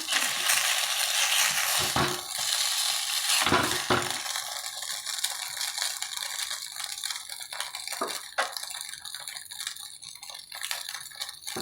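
Malai bread frying in a pan, a steady loud sizzle with stirring and scraping throughout, a couple of brief clatters of utensils against the pan.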